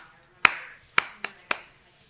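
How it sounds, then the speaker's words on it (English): One person claps a rhythmic pattern: four sharp, close hand claps, with an uneven pause and then three quicker ones, each ringing briefly in a quiet room. "I just do this rhythmic clap."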